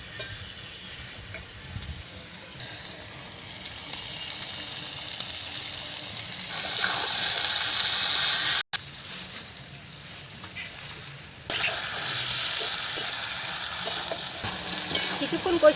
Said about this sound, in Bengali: এখন মাংসটা খুব ভালো করে কষিয়ে নেব।